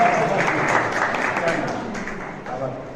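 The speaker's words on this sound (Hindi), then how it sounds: "खुश रहो, ताली लगाइए सब लोग।" An audience at a school smartphone and tablet distribution event breaks into applause for a student called up, a dense burst of clapping that gradually fades over a few seconds.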